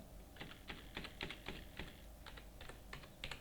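Fingers type a GST number on a computer keyboard while entering details in Tally Prime accounting software, giving a quiet, uneven run of close key clicks with short gaps and no talk.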